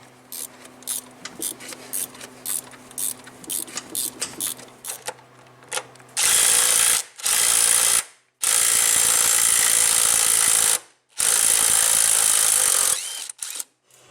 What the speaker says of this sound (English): And then we can start taking the bolts off to replace this guy.